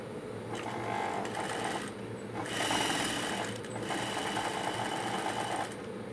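Sewing machine steadily stitching piping onto a blouse neckline, a continuous close mechanical whir with a brief pause midway before running on again.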